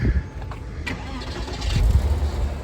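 A car engine with its check engine light on cranks and catches, then settles into a low, rough idle nearby.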